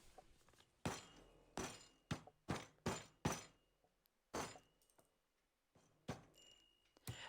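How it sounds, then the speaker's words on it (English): Dried metal clay pieces are smashed inside a folder, giving about a dozen loud, sharp crunching impacts in an irregular rhythm, close up and with no talk. "place the bigger pieces in, and then just start smashing them again"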